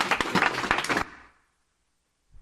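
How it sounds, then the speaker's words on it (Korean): An audience at a talk on strengths gives a short burst of dense clapping that lasts about a second, then cuts off into silence. "박수 한번 보냅시다."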